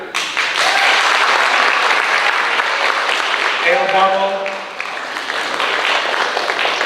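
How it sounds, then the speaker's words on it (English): An audience at a high school track banquet claps steadily and loudly as athletes are called up, while a voice reads out a name over the applause. "you guys can clap up"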